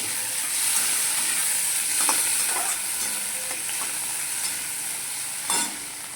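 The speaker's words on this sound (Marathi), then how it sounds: "कांदा टाकलाय भाजायला." Onion and tomato roast in a pan for a Maharashtrian thecha, giving a loud, steady sizzle and crackle that runs throughout with occasional stirring scrapes, alone with no voices.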